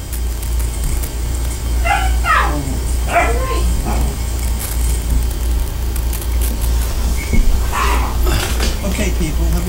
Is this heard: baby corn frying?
no